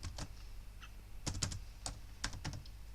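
Keys tapped on a computer keyboard as a password is entered, heard as a few sparse, close clicks spaced irregularly over a quiet background hum.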